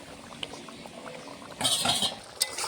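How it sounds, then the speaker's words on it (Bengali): Chicken kosha curry gravy bubbling in a pot with potatoes: a low, steady simmer that swells into louder, busier bubbling and spitting after a moment, with a sharp pop near the end, close by and with no talk. "ঝোলটা ফুটে উঠেছে"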